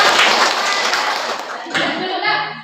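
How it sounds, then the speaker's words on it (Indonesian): Sustained applause from a math class for a student group, steady clapping filling the room, with a slight lull and then renewed clapping near the end. "Dan tepuk tangan untuk kelompok."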